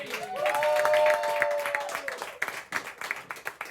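Audience applause for a comedian taking the stage at a County Kerry comedy night, building into steady clapping with brief whooping cries early on, then thinning into scattered individual claps.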